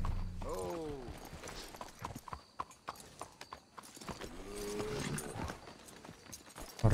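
Steady clip-clop of horse hooves on a hard surface in Red Dead Redemption 2, with a couple of whinnies and voices talking over it.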